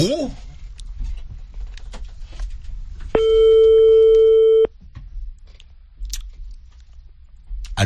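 A single sustained telephone ringing tone sounds loud and clear for about a second and a half in the middle, with chewing and crunching noises around it.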